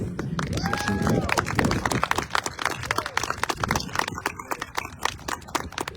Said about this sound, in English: we'll give a round of applause for that